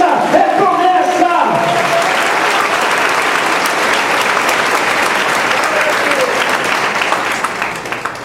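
A church congregation applauds during a sermon on the resurrection, a loud, dense, steady wash of clapping that fills the space for several seconds with a voice briefly heard near the start.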